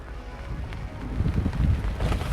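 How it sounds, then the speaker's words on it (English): Strong gusts from Storm Dennis buffet the microphone near a Fiat 500 Rockstar, a loud rumbling roar that swells toward the end of a short burst. "that gives you an idea of how windy it is today"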